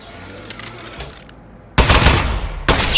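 A gun fires in the Aperture Desk Job video game: a sudden loud, close burst of rapid shots erupts after a quiet lull, then a second burst follows soon after.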